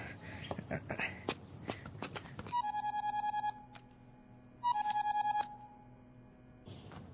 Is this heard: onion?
no